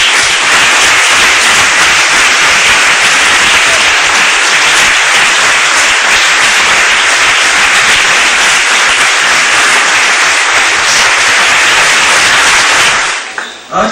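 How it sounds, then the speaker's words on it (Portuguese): A congregation at a church service bursts into sustained, loud applause, dense clapping filling the space steadily before cutting off abruptly at the end. "vamos dar uma linda salva de palmas para o Criador"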